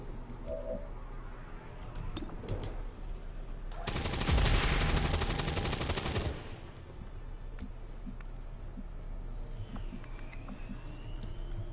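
Gunfire in XCOM 2: a roughly two-second burst of rapid automatic shots stands out loudly against quiet game ambience, with faint scattered clicks and tones before and after.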